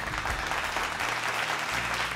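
Dense audience applause greeting Maharashtra cabinet minister Chhagan Bhujbal's arrival, a steady even patter of many hands filling the brief span.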